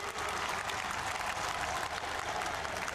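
A large crowd at a Gujarat farmers' gathering and Amul unit inauguration applauds to welcome PM Narendra Modi, a thick, even roar of many hands clapping that holds steady for the whole stretch.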